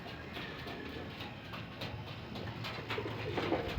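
Pigeons in a loft coo faintly beneath a steady wash of broadband background noise, which grows slightly louder toward the end.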